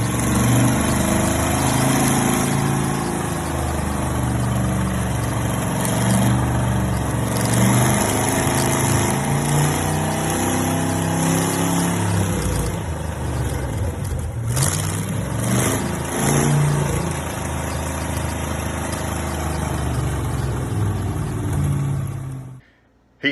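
A Chevrolet engine fitted with an HEI ignition module runs on an engine stand, holding a loud, steady idle with a few blips of revving before it cuts off abruptly at the end.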